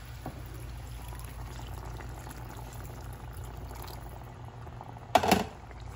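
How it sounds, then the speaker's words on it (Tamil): Water poured into a pan of simmering pav bhaji masala gives a steady, soft liquid wash, then a brief louder splash near the end. "அதில் வாட்டர் ஆட் பண்ணிக்கிறேன்."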